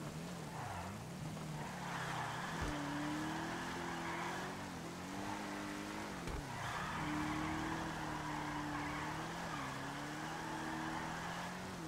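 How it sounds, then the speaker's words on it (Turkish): A drifting car in GTA Online on a rain-soaked road, with continuous tire squeal over the engine's rising and falling drone, sliding through several wavering pitch swoops at moderate loudness. "Öyle bir kayıyor, tekerlek sesini umarım duyuyorsunuzdur. Muhteşem bir tekerlek sesi var."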